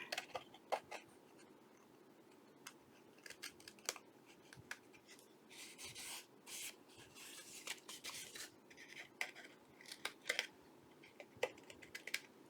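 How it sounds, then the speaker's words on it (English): Small scissors trim the edges of paper for a handmade feminine journal, giving a run of quick, close snips and light papery rustles with brief pauses between cuts, no voices over it. "Let me get my little scissors and see if I can just trim these little edges up a little bit better."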